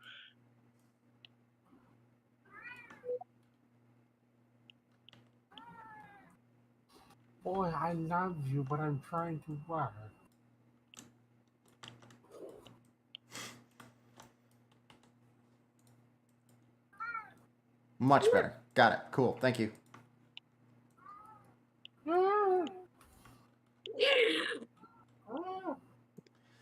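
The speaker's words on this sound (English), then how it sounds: "His obnoxious caterwauling." A cat meows several times in short, insistent bursts close by, alternating with someone speaking softly.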